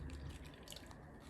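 Liquid from an iodine clock chemistry mixture trickling through a coffee filter into a container, a soft continuous watery patter at close range, faint and steady with no voices.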